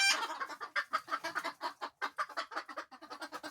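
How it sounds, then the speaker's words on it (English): A flock of about ten or eleven roosters and hens in a backyard homestead coop clucks in quick, steady, overlapping bursts, close and fairly loud, with no talking. "There's at least 10 roosters in here, maybe 11."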